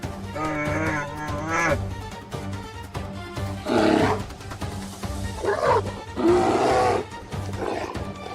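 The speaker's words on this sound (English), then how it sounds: "The bear roared, a deep, forest-shaking sound" A bear roars in the wild, a series of deep, drawn-out bellows separated by short pauses, loud and close with low rumbling between the calls.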